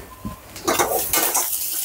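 Carrot rice being stirred with coriander leaves and lemon juice, a spoon scraping and clinking against a metal pot in short busy strokes, close and fairly loud.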